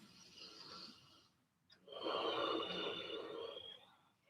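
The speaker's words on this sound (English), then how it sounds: "Deep breaths in." A person resting between yoga stretches takes deep breaths, a soft airy inhale, a brief pause, then a longer, fuller rushing breath, close and quiet.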